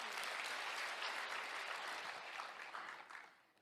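An audience at a side-business seminar in Namyangju claps together, a steady wash of applause fading out toward the end, fairly faint and distant.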